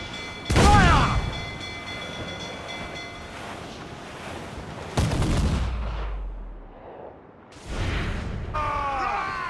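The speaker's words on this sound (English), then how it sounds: "Slow them down with chain shot!" Cannon fire from a pirate ship loading chain shot in Assassin's Creed Black Flag, a few loud booming blasts spaced apart with whistling and crashing debris between them.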